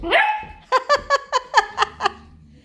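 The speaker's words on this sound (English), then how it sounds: "That's a funny bark." A young puppy gives a rising whine, then a run of seven short, sharp barks in steady rhythm, close and clear indoors.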